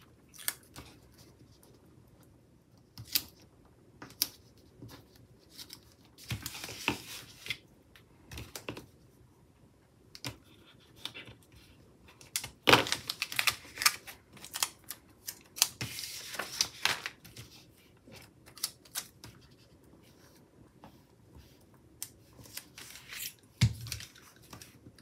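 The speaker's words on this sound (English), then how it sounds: "Cut that sort of on an angle so I can use it two different places." Scissors snip paper for a Happy Planner spread, with many short, close crisp cuts in irregular bursts and quiet gaps between them, with no talking.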